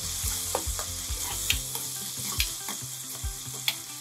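Tamarind curry with jaggery is stirred in a pan, a steady sizzle under repeated spoon scrapes and taps at an irregular rhythm, close and fairly loud, with no speech.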